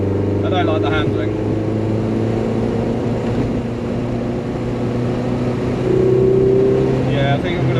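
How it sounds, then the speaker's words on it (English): A Lotus Elan engine drones steadily through a long countryside drive, a continuous low hum with a rising note near the end, while a person talks over it. "the engine feels a bit lethargic, and I don't like the handling"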